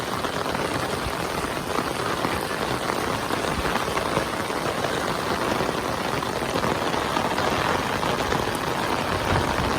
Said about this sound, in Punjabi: 24 ਘੰਟੇ ਹੋਣ ਵਾਲੇ ਨੇ ਮੀਂਹ ਪੈਣ ਲਗਾਤਾਰ ਪੈਂਦੇ ਨੇ